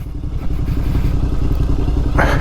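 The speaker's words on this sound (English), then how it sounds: "The engine braking is helping out massively down here." A heavy Triumph Scrambler on 50-50 tyres descends a dirt byway, its engine loud and close with a steady low throbbing drone under engine braking, plus some clatter from the rough ground.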